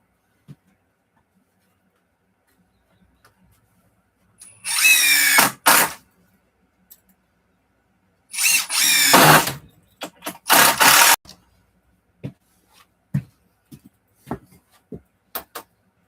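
An impact driver sinks screws into wood for a workbench build in short bursts, one around a second long and a longer pair later, each a loud whirring rattle, separated by silence and small clicks of handling.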